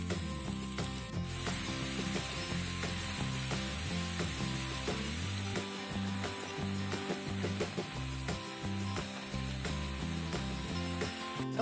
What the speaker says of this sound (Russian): А морковь будем обжаривать.